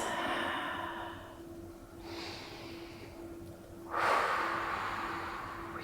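Slow, deep breaths during a yoga twist, two long airy exhales close to the mic with a steady hum underneath.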